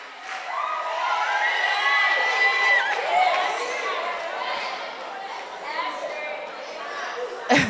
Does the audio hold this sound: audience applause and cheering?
yes